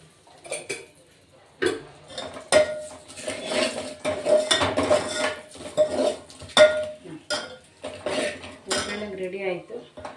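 Metal utensils clink and scrape against a pan while a tempering is prepared for a greens saaru in a home kitchen, with irregular close, bright knocks and rattles spread across the whole stretch and no talking.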